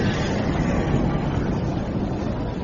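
Dense, steady roar of a vast underground New York city of 200 million people in a radio drama of Asimov's The Caves of Steel, a constant loud wash of rumbling noise with no distinct events.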